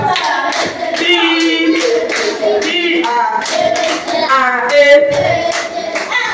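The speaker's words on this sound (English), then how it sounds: "Clap your hands." Children clap their hands along to an Igbo nursery rhyme, the claps landing as sharp, regular beats over sung voices and melody that run the whole way through.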